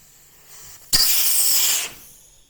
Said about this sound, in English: without having all the air rush out of this valve here